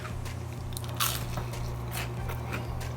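Several crisp bites into crunchy Trader Joe's scallion pancakes, close-up crackling crunches scattered over a few seconds above a low steady hum.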